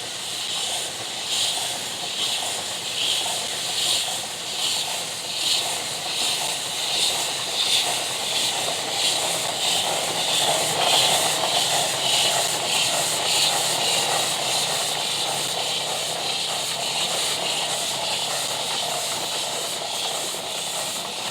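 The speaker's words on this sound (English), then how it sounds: "a typical American logging engine, a Climax geared locomotive exported to New Zealand in 1913" A 1913 Climax geared logging steam locomotive, exported to New Zealand and used at sawmills, hisses loudly and continuously with a broad, steady steam roar close by, no voices.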